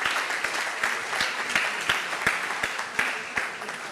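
Steady applause from an audience, a dense wash of many hands clapping with a few sharper individual claps standing out, sustained throughout.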